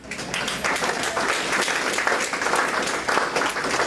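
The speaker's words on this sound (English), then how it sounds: "Let's give him a round of applause" An audience gives a round of applause for a speaker after a talk on a data breach, sustained, evenly textured clapping from a roomful of people, moderately loud throughout.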